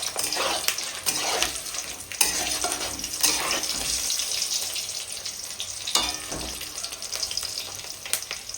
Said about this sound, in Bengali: কত সুন্দর করে আমি লাল করে ডিমটা ভেজে নিচ্ছি।